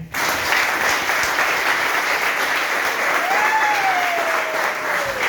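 A church congregation applauds steadily and loudly throughout, a dense wash of clapping with a faint sustained tone rising above it partway through.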